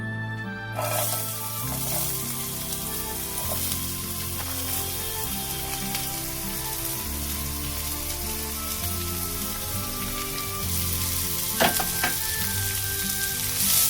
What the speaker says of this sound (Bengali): গরম হয়ে গেছে তেলটা। আর এই সবজিগুলো, এই যে বিনস, গাজর আর বাঁধাকপি, এটা একটু ফ্রাই করে নেব।